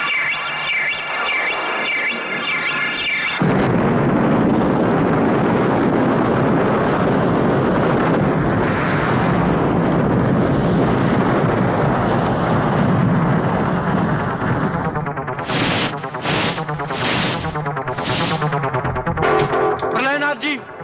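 Dynamite-filled pipes blow up during a missile launch scene in a film, a long roaring, echoing rumble of blasts that swells and then breaks into several sharp bursts toward the end.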